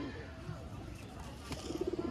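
Pigeons from a pair of flying pigeons give soft, low cooing notes near the end, preceded by a quiet stretch with faint background talk.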